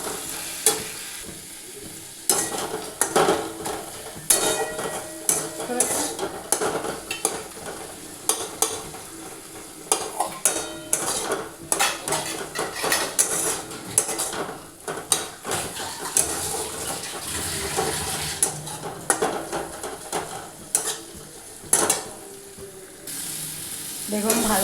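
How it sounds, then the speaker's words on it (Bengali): Prawns frying in a pan with turmeric, salt and Kashmiri chilli powder, a steady close sizzle broken by frequent scraping stirs of a spatula against the metal pan, with no talk. "এবারে সবগুলো মিশিয়ে ভালো করে ভাজবো"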